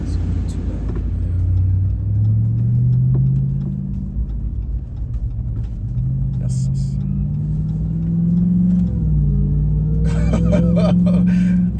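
A Dodge RAM TRX's supercharged engine idles and revs in a deep, continuous rumble, with rising and falling whine as the throttle changes, while people talk over it inside the truck.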